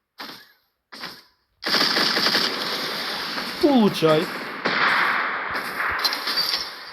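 Loud rapid automatic gunfire in a video game, opening with a couple of short separate bursts before a long sustained stream of shots, with a voice speaking briefly over it.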